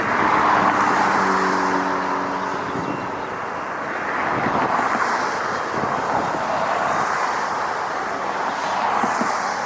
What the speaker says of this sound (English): Just pushed out and taxiing is Delta Airlines flight 311. It's going to Kailua Kona, Hawaii, 767-300.